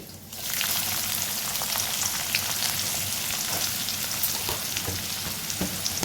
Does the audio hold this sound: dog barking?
no